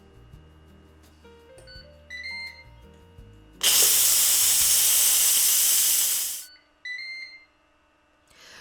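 A loud, sustained burst of steam hisses from a pressure cooker vent for about three seconds during an immediate release after cooking pasta with chicken and sausage, preceded and followed by electronic beeps and soft handling noises.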